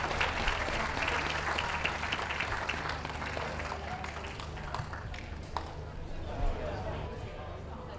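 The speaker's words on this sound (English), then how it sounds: "Can we have a big round of applause for the rest of our best of breed winners?" Audience applause at the Richmond dog show during the toy group shortlist, steady and fairly soft clapping from a crowd across the whole stretch, heard from a distance with a faint voice underneath.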